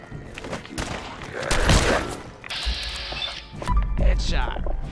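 Shotgun blasts go off in Fallout 4 gameplay as bursty, booming shots mixed with game noise, while a person talks over the action throughout.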